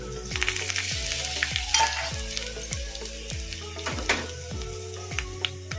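Garlic and green chillies sizzle in hot oil with mustard seeds and cumin for a sambar tempering, a steady bright fry punctuated by regular metallic scrapes of a spoon stirring the pan, close and without talk.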